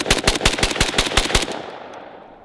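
A Romanian RPK machine gun fires a rapid burst of about eight loud, evenly spaced shots close by. The reports end abruptly and a long echoing tail fades across the following second.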